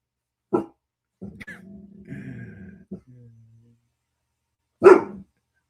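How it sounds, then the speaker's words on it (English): A guard dog gives a couple of sharp, close barks separated by softer whimpering and low vocal sounds, with a final loud bark at the end. "she starts barking"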